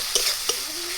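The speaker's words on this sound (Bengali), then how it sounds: "পেঁয়াজ বাটাটা কিন্তু খুব লাল করে আমি ভাজবো না, খুব আস্তে আঁচে খুব হালকা করে ধরে ধরে ভাজবো" Onion paste fries gently over low heat, a soft, steady sizzle with a couple of brief stirring clicks, close and alone.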